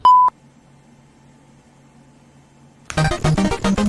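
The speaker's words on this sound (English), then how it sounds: "Leave your message after the beep." One short, clear electronic answering machine beep, then near silence for a few seconds before a voice starts talking.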